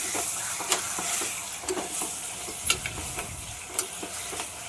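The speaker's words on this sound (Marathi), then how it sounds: "आता हे चिकन आपल्याला कुकरमध्ये घालायचं आहे" Half a kilo of raw chicken pieces sizzles and scrapes as a spoon stirs them in a pressure cooker, with steady frying hiss and several sharp clicks of metal on metal, no voices.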